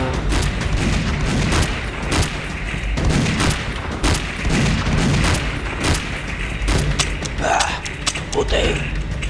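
Rapid cartoon gunfire rattles almost nonstop in a horror animation battle scene, dense bursts of shots filling the whole stretch, with voices shouting over the volley.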